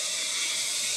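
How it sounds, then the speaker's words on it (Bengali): Mixed vegetables frying in a pan for fried rice, heard as a brief, steady hiss and sizzle with no other sounds. "বিভিন্ন রকম সবজি ভাজা হচ্ছে,"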